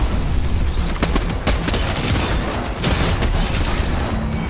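Gunfire in Fortnite crackles loudly and continuously, with rapid overlapping shots and bursts forming a dense, unbroken barrage throughout.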